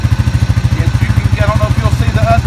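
An ATV engine putters steadily at low revs with a rhythmic thumping pulse while it is loaded onto a single axle trailer, close and loud, with a few faint higher tones drifting over it.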